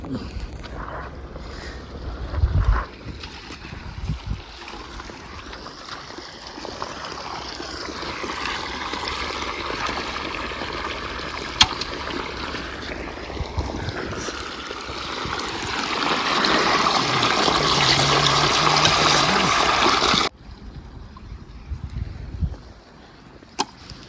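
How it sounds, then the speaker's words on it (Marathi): Water runs through a pipe into a village farm field, a steady rushing flow heard up close for about twenty seconds with some wind buffeting, then fading into quieter outdoor background. "बघू शकता पाणी भरणं चालू आहे"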